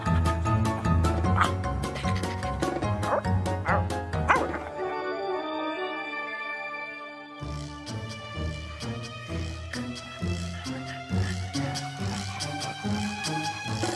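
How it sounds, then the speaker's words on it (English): Three little dogs bark in quick, excited yips while herding three goslings back to their mother, the barking close and steady under a bright musical backing throughout. "Three little dogs in a flurry of feathers bring three little goslings back to their mother"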